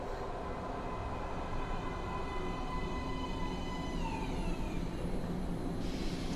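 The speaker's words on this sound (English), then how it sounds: "Please step away from the edge of the platform. Train coming in." A metro train pulls into a platform in the video game Metro Last Light, with a constant heavy rumble and a rising, whining tone as it arrives. No one speaks over it.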